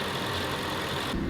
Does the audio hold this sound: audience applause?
no